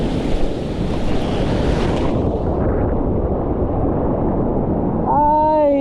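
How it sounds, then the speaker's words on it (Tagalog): Sea surf builds and crashes against a shoreline fishing spot as the water rises at high tide, a loud continuous wash of waves with heavy wind buffeting the microphone and no clear talk. "Lumalakas na rin tong dagat. Habang nag-high tide talagang tumataas yung tubig."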